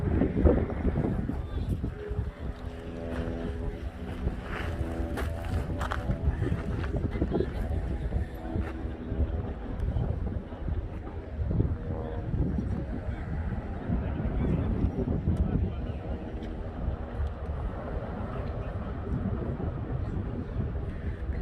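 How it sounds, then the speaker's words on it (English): Strong wind buffets the microphone on sandy volcano ground, a loud, continuous rumbling roar with gusts throughout, while a person speaks now and then underneath. "It's always became very windy now."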